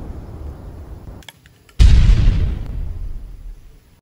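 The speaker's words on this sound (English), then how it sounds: "Boom granat." A toy grenade goes off with a single sudden loud boom, a sharp broadband burst that decays over about two seconds, preceded by faint clicks and quiet background.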